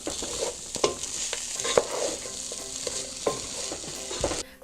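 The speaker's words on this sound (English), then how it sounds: "Stir this up." Frozen corn and quinoa being stirred in a hot frying pan, a spoon scraping and clacking in repeated strokes over a steady close sizzle, with no talking.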